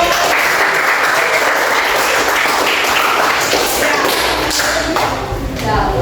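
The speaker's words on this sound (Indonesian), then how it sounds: "tepuk tangan buat kita semua dulu" Classroom participants in a teaching lesson break into loud, steady group applause, a thick wash of clapping with scattered taps and thumps, with a voice speaking over it.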